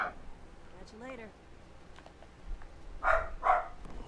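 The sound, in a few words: small dog barking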